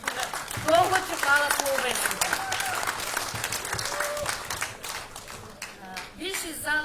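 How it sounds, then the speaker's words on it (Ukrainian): At a civil-society gathering, the audience breaks into sustained applause. The dense clapping carries on under a voice as she speaks over it. "насамперед прошу мене підтримати аплодисментами"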